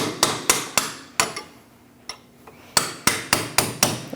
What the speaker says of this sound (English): chisel and hammer to separate it from the knuckle